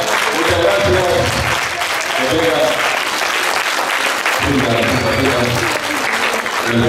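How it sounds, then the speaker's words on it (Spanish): Applause from a crowd at a community radio station's first-anniversary celebration, steady clapping for around seven seconds with voices audible underneath. "vamos a dar un aplauso a la distancia"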